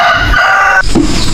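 A rooster on a small farm crows once, loud and close, with a harmonic call that breaks off abruptly into a short cluck.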